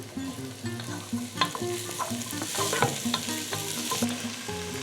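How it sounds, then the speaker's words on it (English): Peppers and onions sauté in a pan for vegetarian three-bean chili, a close continuous sizzle with frequent clicks and scrapes of a utensil stirring, and no talk. "So I'm just going to soften up the peppers and onions a bit here."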